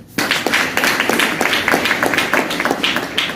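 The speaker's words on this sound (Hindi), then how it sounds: "ताली बजाइए।" A seminar hall full of people claps steadily, a fairly loud patter of hands that starts suddenly and keeps going without pause.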